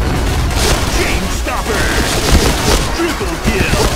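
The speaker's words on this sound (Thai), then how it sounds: "โอ้ระเบิด" Explosions and gunfire in a Point Blank online shooter match, dense booms and crackling blasts filling the whole stretch with a voice reacting over the action.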